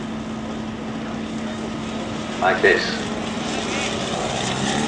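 A clipped-wing Piper Cub flies aerobatics at an airshow, its propeller engine droning steadily at a distance while an announcer talks over it.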